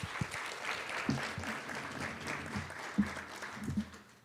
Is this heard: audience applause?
yes